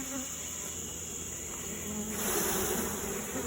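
Nurse honey bees shaken from the top into a flea market hive, giving a dense, steady buzzing hum of many bees close by that swells slightly louder partway through.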